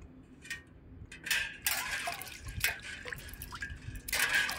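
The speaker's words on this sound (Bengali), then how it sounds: "প্রথমে আমি তালটাকে ভালো করে ধুয়ে নেব।" A palm fruit being washed by hand with water, giving irregular splashes, drips and trickles at close range against a quiet background, with no talking.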